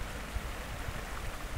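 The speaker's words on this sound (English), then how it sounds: "And this is just the bridge, you know, where the river falls underneath it." River water flowing beneath a footbridge in a resort valley, a steady broadband wash of rushing current with low rumbling pulses, close and continuous with no voices.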